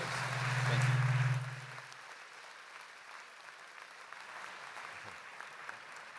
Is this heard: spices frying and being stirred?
no